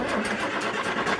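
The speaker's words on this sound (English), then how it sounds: "I can start my engine from here" A digger derrick truck engine starts up by remote control, giving a brief steady mid-pitched engine rumble that holds at a moderate level.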